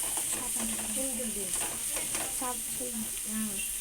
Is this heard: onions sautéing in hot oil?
yes